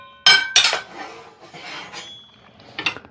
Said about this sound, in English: Now, let's cut into this shrimp.